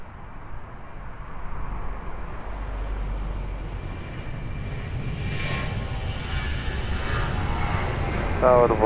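An airplane takes off from runway 02 at Lisbon Airport, a broad, steadily building engine roar at a distance with a low rumble, growing louder toward the end.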